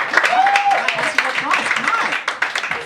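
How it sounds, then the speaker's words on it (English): A light smattering of applause from a small theatre audience at a talk show, scattered claps mixed with voices and a brief tonal whine. "Smattering of applause."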